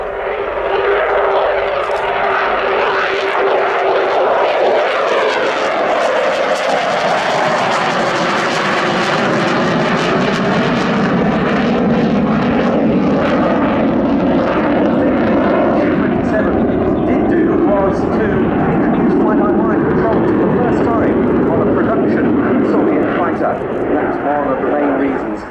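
A Ukrainian Air Force Sukhoi Su-27P1M Flanker jet roars loudly and continuously for the whole stretch, its engine pitch sweeping as it passes, while a voice speaks over it.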